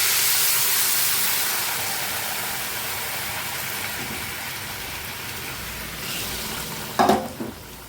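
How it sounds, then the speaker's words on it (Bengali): Water going into a hot pan of Basanti pulao: a loud, steady hiss and sizzle fills the opening seconds, then eases to a softer bubbling simmer, with a couple of sharp utensil knocks near the end. "এই বাটির 2 বাটি জল আমি এখন দিয়ে দিচ্ছি।"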